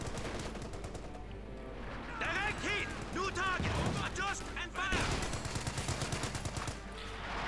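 Rattling machine-gun and rifle fire in the real-time strategy game Company of Heroes 2, with repeated bursts and single shots layered through a battle, while a voice talks over the action in between.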